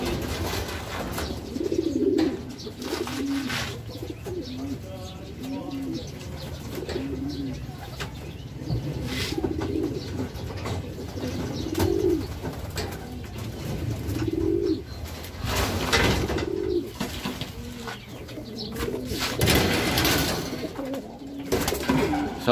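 Racing pigeons coo repeatedly in low, throaty phrases, heard close during race training. Soft background noise runs throughout, with a few brief louder rustles.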